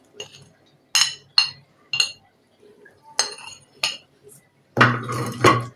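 Cauliflower cutlet batter with tomato ketchup, cornflour and rice flour whisked in a bowl, sharp intermittent clinks of utensil against the bowl in irregular bursts, ending in a longer run of rapid clattering.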